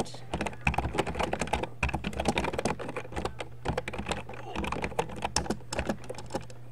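Rapid typing on a computer keyboard, a dense stream of close, crisp key clicks with brief pauses, a voice murmuring faintly underneath.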